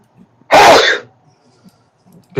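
A single loud, close sneeze bursts out and fades within about half a second, followed by quiet room tone with faint shuffling.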